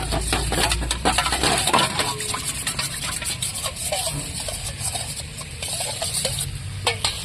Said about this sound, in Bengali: এইবার আমি জল দিয়ে এটাকে গুলে নিচ্ছি